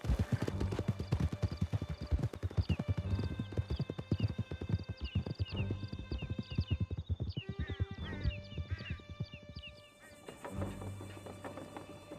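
Horses galloping in Red Dead Redemption 2, a fast continuous clatter of hooves with snorts and a whinny, close and loud, layered under game music and ambient wildlife tones before easing off near the end.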